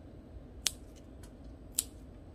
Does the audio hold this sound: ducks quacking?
no